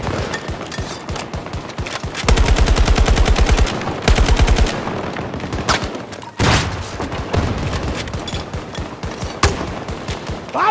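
Gunfire in Battlefield 2042 crackles in loud bursts: long rapid machine-gun strings and scattered single shots with thuds, close and dense, while people shout to each other.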